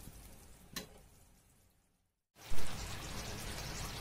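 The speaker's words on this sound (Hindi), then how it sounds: "इसे 5 मिनट तक और पकाएंगे तेज आंच में" Kadhi pakora bubbles on high flame in a pot, a dense crackling sizzle that fades to near silence, then returns loud and steady after a brief cut.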